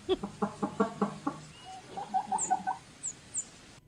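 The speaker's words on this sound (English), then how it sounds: "This will be the last chicken clip." Chicken calling in a rapid run of clucks and squawks, then a rising series of higher chirps near the end, fairly close and clear with no talk over it.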